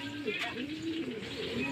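Racing pigeons give a low, soft cooing murmur that runs steadily through a short stretch of outdoor background noise.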